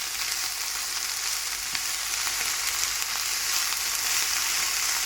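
Onion and spinach sautéing in a pan over medium-low heat, a steady close sizzle with soft crackles running unbroken throughout.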